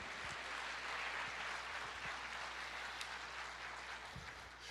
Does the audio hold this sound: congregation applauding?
yes